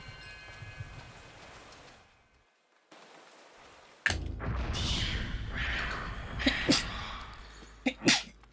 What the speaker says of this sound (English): Need to sneeze.